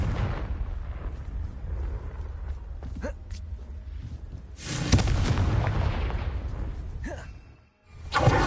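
A Confringo blasting spell exploding in the Hogwarts Legacy video game: a few sharp blasts early, then a heavy rumbling explosion that swells and fades before another burst at the very end.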